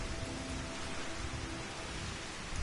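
Steady rain falls in the video game FFXIV, a dense, even hiss that continues without pause, with no talking.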